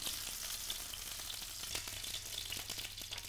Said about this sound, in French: On les fait bien saisir de tous les côtés.